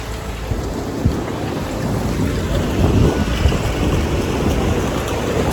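Beach ambience at Diveagar Beach on a busy Sunday, a steady broad roar of wind and surf with heavy microphone buffeting and occasional thumps, no voices.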